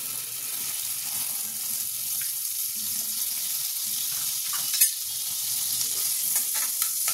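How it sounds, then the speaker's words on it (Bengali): Butter melts in a hot wok with a continuous, even sizzle and frying hiss, with one brief utensil clink partway through and no talking. "দেখো কড়াটা বসিয়ে দিয়েছি, কড়াটা গরমও হয়ে গেছে। এবার এর মধ্যে দিয়ে দেবো বাটার।"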